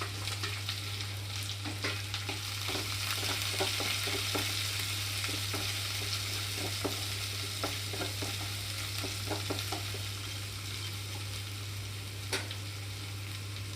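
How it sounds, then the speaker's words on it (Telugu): Onions and green chillies hit hot oil in a tempering of garlic and curry leaves for a Telugu snake gourd curry, giving a steady close sizzle with scattered stirring clicks and scrapes and a constant low hum underneath. "ఇక్కడ తాలింపు అంతా వేగిన వెంటనే ఉల్లిపాయలు పచ్చిమిరపకాయలు వేసేసుకుంటున్నాము"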